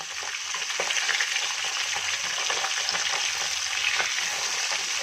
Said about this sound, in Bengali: মাছটা আমি খুব বেশি ভাজবো না, হালকা করে ভেজে তুলে নেব।